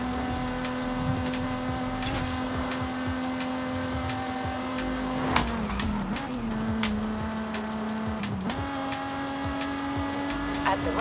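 A 1994 Mazda MX-5 engine drones steadily in a driving video game, holding a constant pitch with a couple of brief dips and rises as it shifts or changes speed, mixed with background game sounds and occasional talk.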